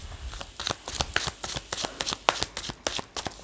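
A deck of tarot cards is shuffled by hand close up, making a steady, rapid series of papery riffling slaps throughout.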